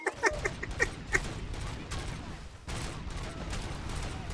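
Gunfire in the RoboCop: Rogue City game, with a quick run of sharp shots at the start and then a dense, rattling stretch of firing over muffled action noise, at moderate volume.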